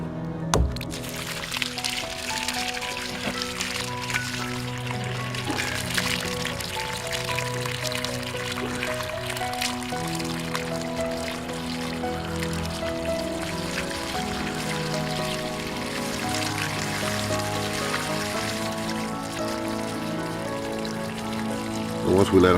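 Water drains out of leaking garden drums in a backyard, a steady trickling pour running continuously at close range with a faint background tone underneath.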